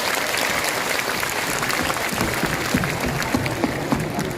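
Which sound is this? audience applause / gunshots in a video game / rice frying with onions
audience applause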